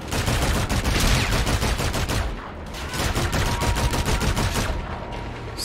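Dense automatic gunfire in Call of Duty: Infinite Warfare on PC, rapid continuous bursts of shots with a brief lull midway before the firing resumes, loud and close.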